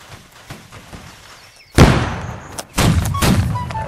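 Musket line volley fire in the video game Holdfast: two loud, close bursts of overlapping gunshots crash out after a quieter stretch of scattered distant shots, each volley rolling on with echoing crackle.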